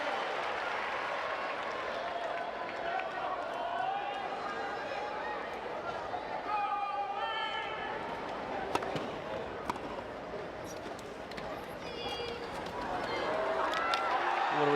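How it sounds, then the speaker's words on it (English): A large crowd roars and applauds steadily throughout the Rio 2016 Paralympic men's singles wheelchair tennis gold medal match between Reid and Hewett, swelling louder near the end, with a commentator talking over it. "Listen to this crowd."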